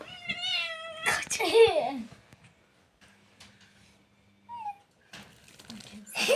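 A cat meows plaintively while being washed by children, several drawn-out cries mixed with splashing and high young voices talking nearby, with quieter gaps between.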